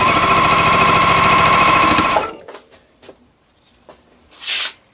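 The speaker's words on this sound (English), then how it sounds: "I'm going to take the next row down and sew those together." A sewing machine chain-pieces quilt rows, a loud rapid stitching run for about two seconds that stops abruptly, followed by faint handling clicks and a brief rustle of fabric.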